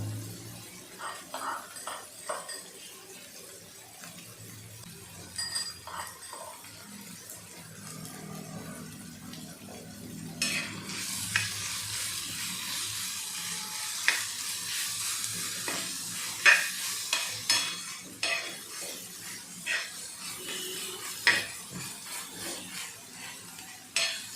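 Chilli thecha for jawala chutney is sautéed in a pan, with a spoon scraping and stirring against the metal and a sizzle that grows louder and busier partway through, close and with no talking.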